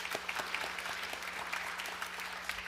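A church congregation claps at a 49th anniversary Sunday worship service, steady applause of many hands carrying through the sanctuary with a low hum beneath, moderately distant.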